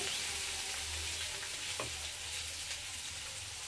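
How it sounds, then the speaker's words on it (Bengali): Ginger, garlic and onion frying in a pan make a soft, continuous sizzle with faint stirring scrapes and a low hum under it. No voices. "আদা রসুন পেঁয়াজের কাঁচা গন্ধ চলে যাওয়ার জন্য আমি ভালো করে ফ্রাই করে নিলাম"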